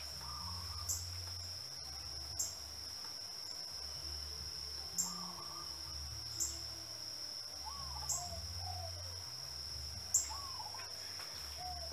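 Birds chirp outdoors near a cardinal, short calls recurring every couple of seconds over a constant high insect or cricket drone and low background rumble, with no one talking.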